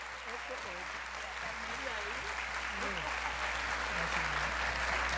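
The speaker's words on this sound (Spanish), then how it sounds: "le presentamos y reciban con un fuerte aplauso" Audience applause welcomes a speaker at a student leadership showcase, a dense, continuous clapping that holds steady and swells slightly toward the end while a voice speaks over it.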